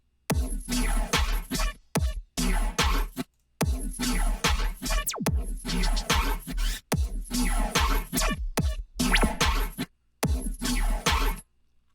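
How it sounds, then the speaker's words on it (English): Riddim dubstep bass patch layered with drums: heavy, gritty wobbling bass bursts hit in choppy, stuttering rhythm with sharp drum hits and abrupt silent gaps between phrases, loud and alone. "The basses sound like this, layered with the drums"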